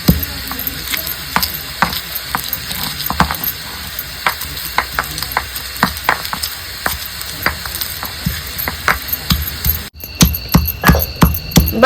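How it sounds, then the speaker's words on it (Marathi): Vegetables with dried fish frying in a pan are stirred every so often: a close, loud steady sizzle broken by frequent sharp clicks and scrapes of a spoon against the pan, with no voices. "अधूनमधून ही भाजी आपल्याला हलवत राहायची"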